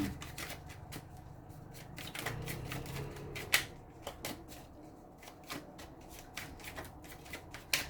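Tarot cards are shuffled by hand in a quiet room, giving a soft, papery riffle with repeated crisp flicks and snaps at an irregular pace, close-up and faint, with no voices.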